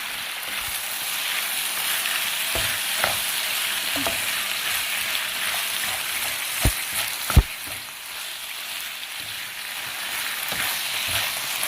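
Cooked pasta tipped into a pan of chicken, steady moderate sizzle with scattered clacks and scrapes from stirring and handling.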